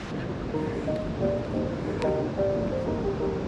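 Steady wash of surf breaking on a beach in Goa, a continuous close roar with gentle swells and a light wind rumble underneath.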